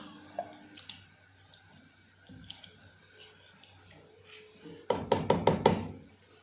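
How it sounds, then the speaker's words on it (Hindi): Marinated chicken for achar gosht with homemade spices is stirred in a cooking pot: quiet scattered knocks at first, then a close, loud burst of rapid clattering scrapes and knocks near the end. "अब अच्छी तरह से हम इसे मिक्स करेंगे"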